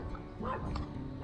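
A small puppy yips and barks briefly on a downtown street in the old town of Coleman, Alberta, the short bark standing out over steady outdoor background noise.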